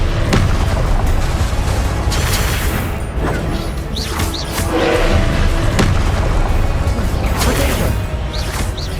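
Confringo blasting spell explosions in the video game Hogwarts Legacy, loud booming blasts and thuds over a dense, continuous roar of combat effects, close and heavy throughout.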